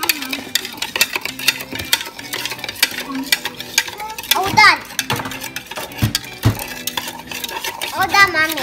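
A child stirs a fruit mixture of mango and strawberry in a bowl with a spoon, giving rapid scraping and clinking against the dish, while a child and an adult talk over the stirring.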